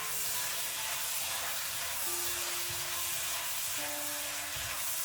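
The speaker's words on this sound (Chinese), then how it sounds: "继续翻炒均匀。" Loofah stir-fries in a wok with dark soy sauce, giving a steady close hiss and sizzle with faint scraping from the spatula and no talking.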